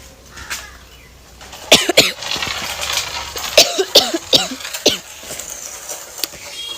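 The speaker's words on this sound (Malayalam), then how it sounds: "ചുമയാണ് ഞങ്ങൾക്കൊക്കെ" Several sharp coughs come close and loud, some in quick pairs and clusters, against quiet household background noise.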